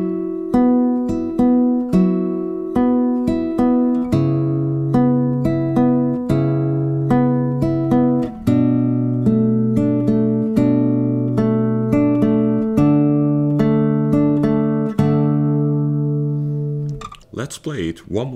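Fingerstyle acoustic guitar playing a song at a beginner tutorial pace, with plucked notes over held bass tones in a steady, close rhythm that ends in a brief scrape of strings.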